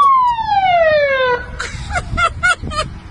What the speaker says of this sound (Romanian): dai drumul la sirenă